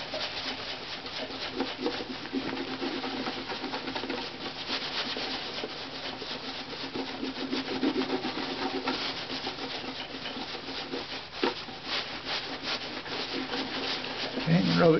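Flitz polish is rubbed by hand into violin varnish, making a close, continuous soft scrubbing and friction hiss with one brief knock near the end.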